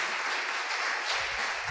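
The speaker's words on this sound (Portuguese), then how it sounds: "Vamos dar uma salva de palmas para a equipe, irmãos?" A church congregation applauds a volunteer team after a charity car wash, a steady wash of many hands clapping at moderate distance, dense and even throughout with no voices standing out.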